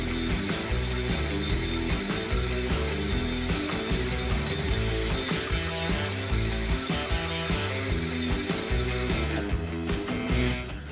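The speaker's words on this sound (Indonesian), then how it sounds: "Kecepatan tanpa beban tertinggi pada gear mode 2 yang saya dapatkan sebesar 1571 rpm." Kova 20V cordless impact drill spinning freely in gear mode 2, its higher-speed setting, giving a loud, continuous ratcheting mechanical whir that holds steady throughout and fades out briefly at the very end.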